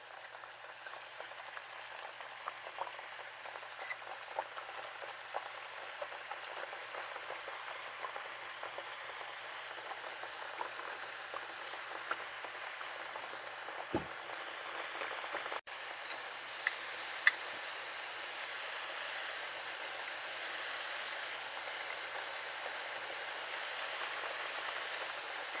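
Plantain tostones deep frying a second time in hot oil give a steady, crackling bubble with scattered pops, close and fairly quiet, continuous throughout with no talking.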